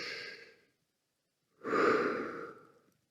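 A rifle shooter breathing while settling behind the scope at a long-range shooting position: one soft breath tapers off, then after a short silence a longer, fuller exhale rises close to the mic and fades slowly.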